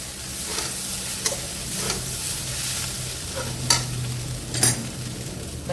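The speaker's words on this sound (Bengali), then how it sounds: "এটা দিয়ে ভালো করে মিক্স করবো" Flattened rice pulao being stirred with onions in a hot pan, a soft continuous sizzle broken by a few sharp spoon knocks against the pan.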